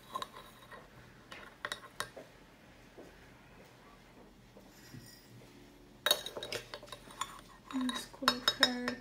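A spoon scooping sugar into a glass of water, light scattered clinks and taps that start faintly and then come in a close, busier burst of metal-on-glass chinks near the end.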